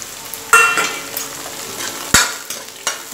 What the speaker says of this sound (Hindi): ताकि अच्छे से प्याज और हरी मिर्ची भून जाए।